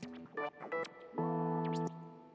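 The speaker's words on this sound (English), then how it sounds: "It's the stock preset. It's called Sequence Automator." The Serum synth's stock Sequence Automator preset plays a short sequence of bright tonal synth notes, with several quick stepped hits followed by one longer sustained chord-like tone, clean and alone.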